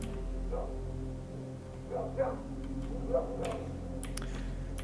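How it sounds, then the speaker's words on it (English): Dogs bark in bursts, roughly three separate barks spaced a second apart, moderately distant and low in level over a steady droning background hum in S.T.A.L.K.E.R. Shadow of Chernobyl. "So that's a lot of dogs"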